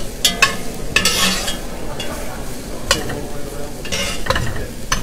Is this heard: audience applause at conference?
no